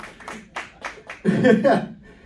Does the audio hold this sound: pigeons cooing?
no